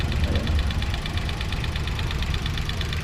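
Vehicle engine idling steadily under a fairly loud, constant low rumble, with a faint repeating ticking pulse above it and no clear revs, close to the microphone.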